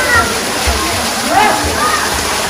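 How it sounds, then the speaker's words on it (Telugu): Water pours from the mouth of a stone Nandi statue at a temple, giving a loud continuous splashing and gushing close by while a person talks over it. "నంది నోట్లో నుంచి వచ్చిన నీళ్ళతోనే నేను చాలాసేపు ఎంజాయ్ చేశాను"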